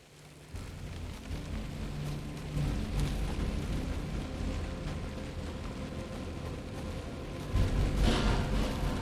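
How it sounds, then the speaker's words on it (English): Steady rain and gusting wind roar continuously in the video game Alan Wake 2 on PS5, with a low rumble underneath and a louder surge near the end. "It's windy, it's raining, it's dark."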